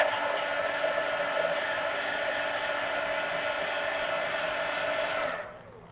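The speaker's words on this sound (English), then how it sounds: "let me hit this with the heat gun" A heat gun blows a steady, loud whooshing roar while drying paint on a mixed media art card, running continuously and then cutting off near the end.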